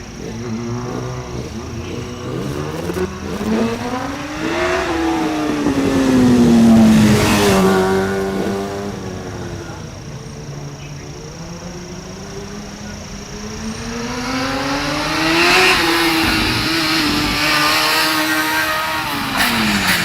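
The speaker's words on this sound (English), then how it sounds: "Danushka De Silva in the Honda CBR." Honda CBR motorcycle racing at a hill climb, its engine rising and falling through repeated gear-change sweeps over about twenty seconds, passing fairly close with outdoor crowd ambience around it.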